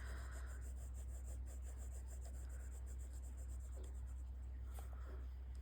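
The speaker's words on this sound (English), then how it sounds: "can you hear that squeaking? That's the paper." A broad fountain pen nib squeaks and rasps faintly on paper while writing, a steady scratchy rubbing under a constant low hum, with no talk.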